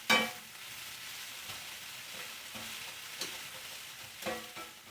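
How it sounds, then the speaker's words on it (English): Food sautéing in bacon grease in a home kitchen, a soft continuous sizzle with occasional louder stirring scrapes and clinks, close and without talk. "Now, while this is sauteing"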